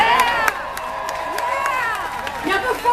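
A rally crowd at the March For Our Lives in San Francisco cheers and whoops, a dense roar of many voices with shouts and claps, loud and sustained throughout.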